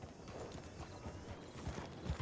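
Horse hooves clip-clop on a dirt road in the Red Dead Redemption 2 video game. The rhythmic footfalls are close and steady, with faint ambient game noise and no speech.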